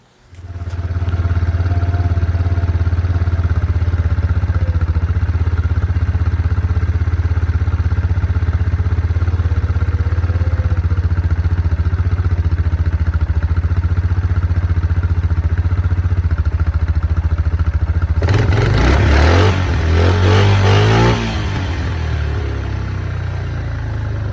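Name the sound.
2003 Yamaha Kodiak 400 ATV engine idling after carburetor install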